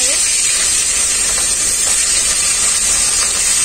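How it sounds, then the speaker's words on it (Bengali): Rohu fish pieces shallow-frying in a little oil, giving a dense, constant sizzle that stays loud and close from start to finish without pause. "বাকি মাছগুলো আমি একইভাবে ভেজে নেব"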